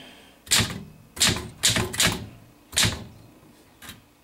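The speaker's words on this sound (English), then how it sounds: "this typewriter, which is functioning quite well" A 1937 Smith Corona typewriter being typed on, with six loud, sharp mechanical key strikes at uneven intervals, each closely miked and ringing briefly in a quiet room.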